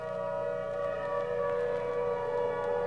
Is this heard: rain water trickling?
no